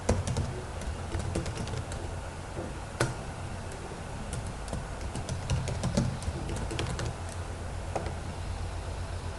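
Keys tapped on a computer keyboard to enter a password, a sparse run of quiet clicks over a steady low background hum, no voices.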